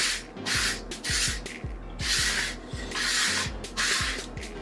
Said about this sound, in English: so I'm not going to sand it really hard because it makes me nervous